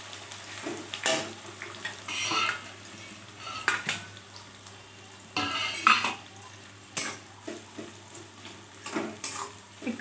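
A spatula stirs chopped onion frying in oil, making repeated scraping bursts against the pan over a low, steady sizzle, with brief pauses between strokes.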